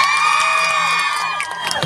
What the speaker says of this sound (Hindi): पूरे स्टाफ के लिए दिल से ताली हो जाएगा प्लीज।